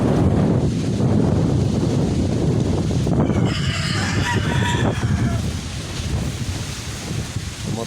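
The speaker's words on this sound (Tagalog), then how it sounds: "Ano, ang lakas ng hangin." Strong wind roars steadily into the microphone, with a rooster crowing partway through and faint clucking from fowl nearby.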